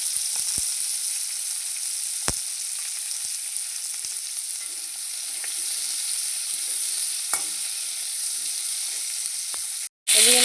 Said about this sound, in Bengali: সামান্য একটু নুন আর একটু হলুদ গুঁড়ো দিয়ে ভেজে নেবো